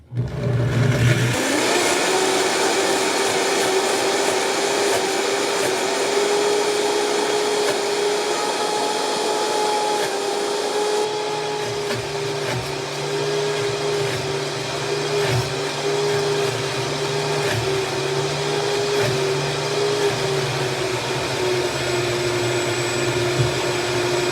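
A loud, high-powered blender roars steadily for a long stretch, its motor pitch shifting slightly as it crushes through strawberries.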